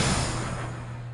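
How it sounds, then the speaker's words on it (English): Steady rain falling in the video game 428 Shibuya Scramble, a continuous dense hiss with a low steady hum beneath, constant and enveloping with no voices. "The rain won't let up."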